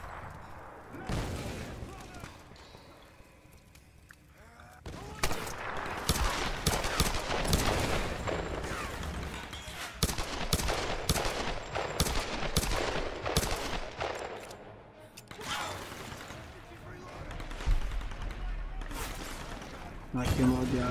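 Tomb Raider gameplay: bursts of gunfire and automatic weapon volleys crack repeatedly, with booming hits and loud clusters of shots mixed with game sounds, and a voice speaks between them.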